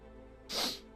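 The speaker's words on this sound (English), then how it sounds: "That was a sneeze and a half." One sharp, forceful sneeze bursts out close up, a short explosive hiss that peaks and fades within about half a second over a quiet indoor background.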